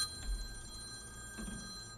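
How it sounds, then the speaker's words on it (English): Telephone ringing with a sustained electronic bell tone, steady and fairly faint against a quiet room, with a couple of soft low thumps and no speech. "Phone ringing off the hook all of a sudden."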